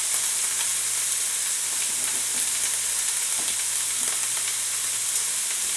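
Pieces of meat brown in a pan, giving a loud, steady, close sizzle and crackle of frying fat with scattered pops and no talk.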